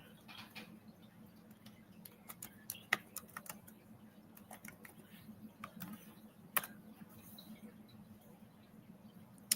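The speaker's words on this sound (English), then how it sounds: "I'm going to type something in the chat" Keys clack on a computer keyboard in a quiet room, a run of sharp irregular taps spread across several seconds, close by and fairly soft over a low steady background hum.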